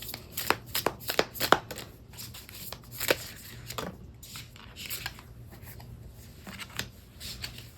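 Tarot cards are shuffled by hand, a quiet sequence of crisp riffling snaps and soft slides coming in irregular bursts, close up and fairly faint.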